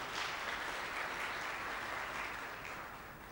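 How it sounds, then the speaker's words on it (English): Audience applause at a 2009 HCM conference session in Lahore, a steady wash of clapping from a room full of people that slowly fades toward the end, with no talking over it. "So a round of applause, please, for the Terrabiz team."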